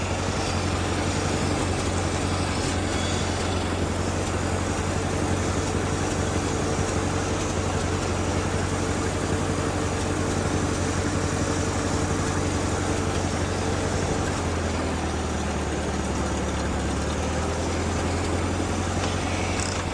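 A forklift engine idles nearby at a mill, a loud, steady low rumble that shifts to a deeper tone partway through and runs without break.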